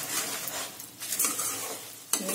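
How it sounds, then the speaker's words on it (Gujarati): Puffed rice being stirred into hot jaggery syrup in a pan, with a close, dry rustling and scraping that swells and fades with each stir, ending on a sharper knock of the spoon. "આ રીતે બરાબર મિક્સ કરી દઈશું"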